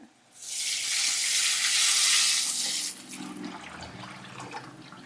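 Liquid with tamarind pours into a sizzling pan of river fish gravy with a loud rushing hiss for a few seconds, then fades to a softer bubbling simmer.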